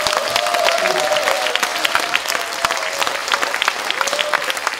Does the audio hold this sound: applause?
yes